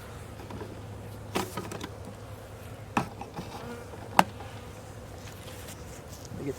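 Honey bees buzz steadily at a hive as the lid is removed in winter, a soft continuous drone with a few sharp clicks and knocks near the hive.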